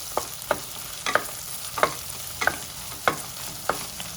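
Soaked soya chunks and field beans fry in a pan with a spatula stirring in an even rhythm, about seven crisp scrapes over a soft continuous sizzle.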